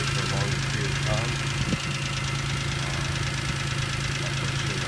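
A 2002 BMW M3 engine idles with a fast, steady ticking from the exhaust, a continuous loud low rumble close by that holds without a break throughout.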